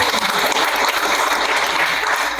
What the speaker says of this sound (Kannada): ಜೋರಾಗಿ ಹೊಡ್ರ ಸರ್ ಚಪ್ಪಾಳೆ